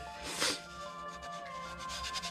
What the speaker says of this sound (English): let's get some sanding done.